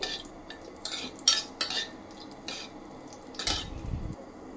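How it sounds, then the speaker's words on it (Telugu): Chopped almonds and cashews frying in ghee in a pan for bread halwa, stirred with a metal spoon: intermittent scrapes and clinks against the pan over a faint background sizzle, close by, with no talking. "కట్ చేసి పెట్టుకున్న బాదం పప్పు వేసుకొని లైట్ గోల్డెన్ బ్రౌనిష్ కలర్ వచ్చే వరకు ఫ్రై చేసుకోండి"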